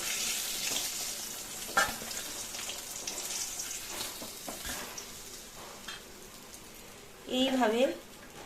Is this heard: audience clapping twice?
no